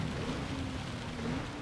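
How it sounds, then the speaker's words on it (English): Steady rain falling in the racing game Gran Turismo 7 during a Le Mans race, a dense continuous hiss with a faint engine drone beneath it, no voices. "The rain is on its way down."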